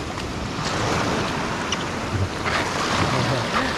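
Sea waves wash and surge around a small boat during a ride, a steady broadband rush mixed with wind buffeting the microphone, loud and continuous throughout.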